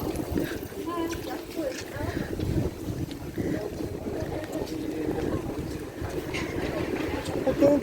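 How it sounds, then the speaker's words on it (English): Strong wind gusts rush down a Sydney street near Chinatown and Chippendale, buffeting the microphone in a steady roar while someone talks over it. "Very windy now."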